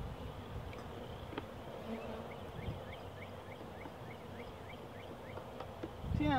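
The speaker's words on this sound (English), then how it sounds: "there's a pretty good group of bees there" Honey bees buzz steadily around a hive, a continuous low droning swarm with a faint repeated chirping nearby and a brief thump at the end.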